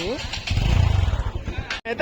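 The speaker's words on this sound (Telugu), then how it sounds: "మేమైతే బయలుదేరుతున్నాం ఇప్పుడు బైక్ మీద అయితే" A motorcycle pulls away carrying a group of friends on a trip, its engine rising in a brief rumble as people talk over it.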